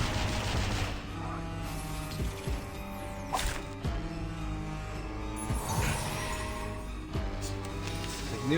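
Gunfire from a shooting attack in the game Reverse 1999, a continuous loud barrage of rapid shots and crashing impacts under backing music, with sharper bursts standing out about every couple of seconds.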